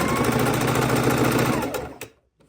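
A sewing machine stitches a quilt seam on precut fabric, a rapid, steady mechanical chatter close by that runs for about two seconds and then stops abruptly, followed by faint handling noise.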